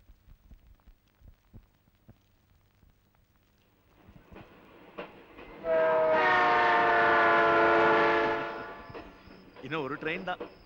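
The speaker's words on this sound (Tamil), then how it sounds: "ட்ரெயின் தான்." Train passing close by: quiet clatter and rumble build up, then a loud sustained horn blast rings out for a couple of seconds before fading into rolling wheel noise.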